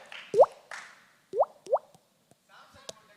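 A voice imitates a pebble dropped into a pond, making several short, resonant plopping sounds with rising pitch in quick succession, close and clear, with faint breathy sounds between them.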